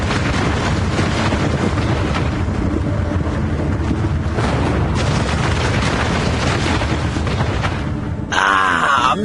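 The Fat Man atomic bomb, a 22-kiloton blast over Nagasaki, sounds as a continuous, loud, roaring rumble like a violent wind that surges without a break, then shifts abruptly near the end.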